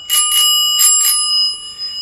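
A bicycle bell clamped on a bar rings in two quick pairs of bright, close metallic dings, each leaving a clear sustained ring that lingers afterward.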